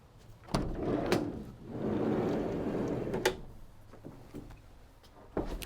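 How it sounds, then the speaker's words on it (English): A van's sliding side loading door on a 2012 Ford Transit medium roof van rolls open with a rumbling scrape, followed by clunks and thuds as it moves along its track and settles, close up. "so we've got a side loading door"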